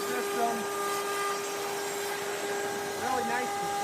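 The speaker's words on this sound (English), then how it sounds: "And with the vacuum system," A vacuum dust extraction system runs on a pin router in a workshop, giving a steady, loud whooshing hum with a faint tonal whine throughout, under occasional light speech.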